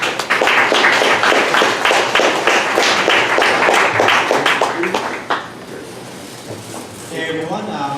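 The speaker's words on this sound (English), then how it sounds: "give a round of applause for them" A crowd at a 1 Million Cups Dallas event claps in sustained applause for several seconds, then it thins out and fades to a quieter room.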